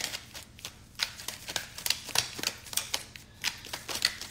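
Tarot cards are shuffled and drawn in a quiet room, a run of soft, crisp riffling snaps and slaps arriving in irregular bursts close to the microphone.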